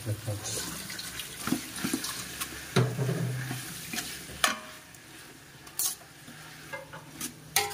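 Carbonara sauce with ham is stirred in a pan, with irregular scraping and clinking strokes over a soft sizzle and some background noise.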